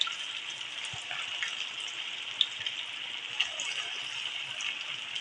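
Bondas lowered one by one into hot oil crackle with a steady, dense sizzle, with a few sharper pops rising out of the constant frying hiss.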